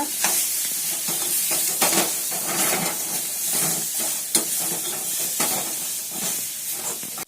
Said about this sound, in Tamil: இப்போ நல்லா ஃப்ரை பண்ணுறேன் நல்லா கிளறி விடுங்க